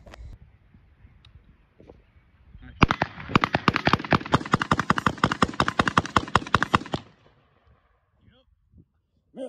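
Rapid automatic gunfire as the rest of a magazine is emptied, a dense burst of about four seconds of close, loud shots after a single opening report, with quiet before and after.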